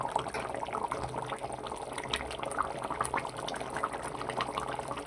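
Village-style mango curry masala boiling in a pot: steady, fairly quiet bubbling and popping with no pauses, heard alone with no talking.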